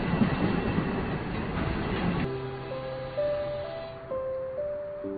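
Rumbling rail noise from a train, giving way to sustained tonal hums that step between pitches as it moves off.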